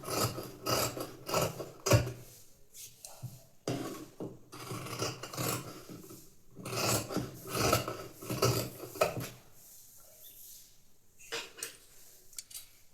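Scissors cut through blouse fabric in repeated rasping snips, close and quiet, coming in irregular clusters with short pauses and no talk.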